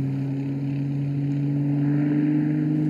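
A single-engine aerobatic display aircraft at an airshow, its engine droning steadily and loudly throughout with a constant low hum as the plane tumbles through torque-driven maneuvers.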